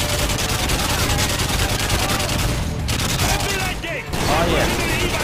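Sustained rapid gunfire from Call of Duty: Modern Warfare 2 fills the whole stretch, a dense loud fusillade with brief gaps, while a voice talks over the shooting.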